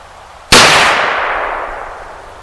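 A single loud .357 Magnum gunshot fired with open sights at a target outdoors, a sharp crack followed by a long ringing, slowly fading tail.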